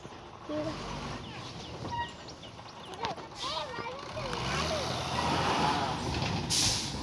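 A lorry pulls in with loud hisses of its air brakes and rumbling engine noise, plus high beeping, over steady outdoor background noise, with someone talking at times.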